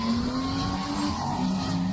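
A drift car in a state-series drift competition skids with a sustained, loud tire squeal over engine noise as it locks up and spins out, close and continuous for the whole moment.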